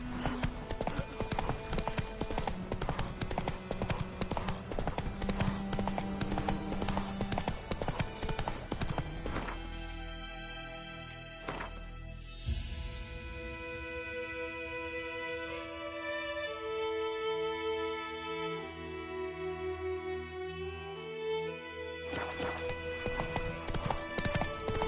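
Roach the horse galloping in The Witcher 3, hooves pounding in a fast steady rhythm close up, with a whinny and game music around it.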